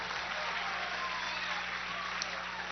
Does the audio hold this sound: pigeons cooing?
no